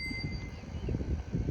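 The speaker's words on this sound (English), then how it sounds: "And also I have a bell mounted right here." A handlebar bell on a Sears Free Spirit bicycle with a Bike Bug friction-drive motor gives a brief, faint metallic ding that rings out over low background rumble.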